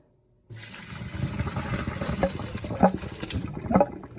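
Pasta and water from a pot poured into a colander, a sudden rushing splash that starts abruptly and keeps gushing and sloshing for several seconds, with a few louder clanks near the end.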